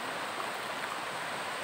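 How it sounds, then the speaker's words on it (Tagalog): Rough sea waves wash steadily against a shore in stormy weather, a continuous hissing rush of surf that is faint and even. "Ang balud."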